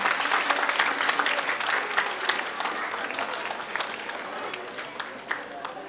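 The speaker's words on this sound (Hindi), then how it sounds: "टीचर्स के लिए ज़ोरदार तालियां हो जाए।" An audience at a school Independence Day celebration claps loudly for the teachers, a dense sustained round of applause from many hands with a few voices mixed in.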